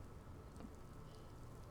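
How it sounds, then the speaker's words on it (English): Soft, steady rain falls in the video game The Mountain, a faint, continuous hiss of drops with a low rumble beneath, heard alone without speech. "then the rain."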